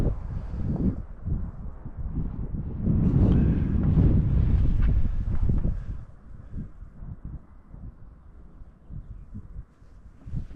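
Gusty wind buffets the microphone during an electric scooter ride, loud rumbling bursts for several seconds that ease into a softer, steady blowing.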